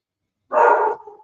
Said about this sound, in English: my apology for the dog noises in the background